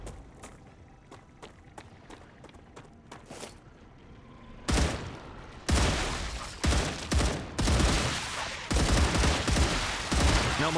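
Automated turrets in the video game StarRupture open fire on swarming bug enemies: sparse sharp shots at first, then a dense, loud fusillade of overlapping bursts and impacts that keeps pounding.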